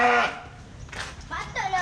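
Barbados sheep at a mini zoo bleat nearby, one loud bleat at the start and another pair near the end, with people talking around them.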